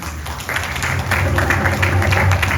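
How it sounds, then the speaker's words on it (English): An audience at a birthday yagna gives a round of applause, steady clapping that swells slightly over a couple of seconds. "Give her a nice round of applause."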